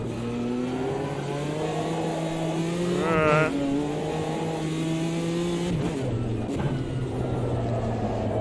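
A Porsche 911 RSR race car engine in the video game Automobilista 2 drones steadily with a harmonic hum, briefly revving up mid-way, with a couple of short clunks near the end.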